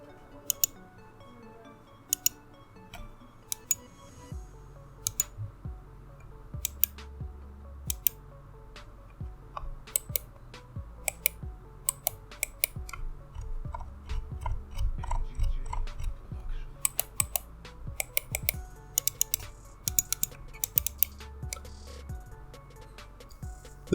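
Sharp, irregular clicks of a Logitech G102 Prodigy gaming mouse's buttons come close up, some single and some in quick pairs, over a low background hum.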